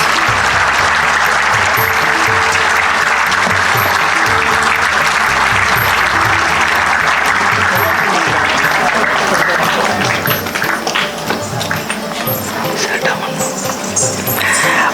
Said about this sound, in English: Clap, clap, clap, my dear parents, please.